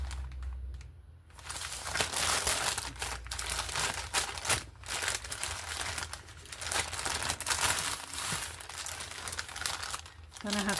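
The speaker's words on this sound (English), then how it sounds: "I'm figuring I might need to strengthen the edges by doing a fold" Sheet of paper being folded over along its edge to form a hem, giving close crinkling and crackling rustles in irregular bursts, with a voice speaking intermittently.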